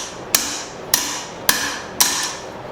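Four sharp, evenly spaced hammer blows ring out on a small anvil while metal is forged for a bird feeder hanger, each strike loud and close with a brief metallic decay and no talking.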